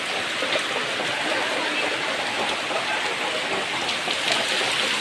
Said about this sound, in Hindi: प्रबल वर्षा हो